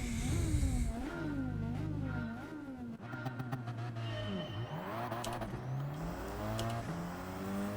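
A tuned Ford Focus with nitrous roars through a video-game race, its engine revving up and down in repeated sweeping pitches with quick gear changes and a few sharp rasps along the way.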